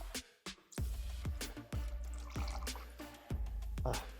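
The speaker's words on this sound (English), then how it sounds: "And finally, the WhistlePig gets poured." WhistlePig rye whiskey is poured into a cocktail at a home bar, with a series of close, gurgling glugs and drips repeating at irregular intervals over a few seconds.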